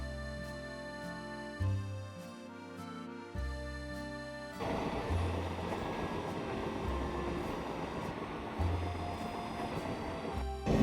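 Train on the Dooars railway line through forest in North Bengal, running slowly with a steady low rumble and mechanical drone that shifts partway through, continuous and fairly close, with no talk.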